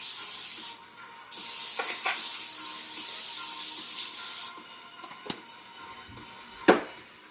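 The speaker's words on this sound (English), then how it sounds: "I've already lined my pan with some tin foil, so I'm going to spray that down really," Aerosol cooking spray hissing onto a foil-lined pan, several steady bursts of spray separated by short pauses, close and fairly quiet with a couple of sharp clicks near the end.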